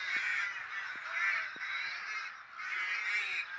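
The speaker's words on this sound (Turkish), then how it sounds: "Karga sesleri baya bir yankılanır burada." Several crows cawing repeatedly in a village in Büyük Durduran in spring, harsh calls overlapping and echoing, moderately distant, with no one talking.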